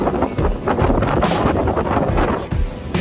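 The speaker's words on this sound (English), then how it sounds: "Despite the constant, relentless wind blow," Strong, constant wind gusts across a church courtyard during a wedding reception, roaring and buffeting close against the microphone without pause.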